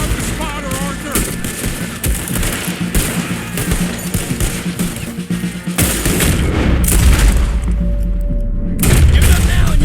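Cannon blasts and gunfire during a hillside battle in the Red Dead Redemption 2 video game, with dense overlapping booms and shots running the whole time under a continuous rumbling game score, with brief voices.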